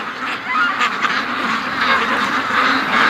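Ducks back home from a day at the lake quack loudly and continuously, a close, dense chorus of overlapping calls with no voices in between.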